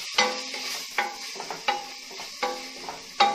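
Mint and coriander leaves sautéing in oil for kuska, a plain biryani, with a steady soft sizzle and several sharp spoon scrapes and stirs against the pot at irregular intervals, close up with no talking.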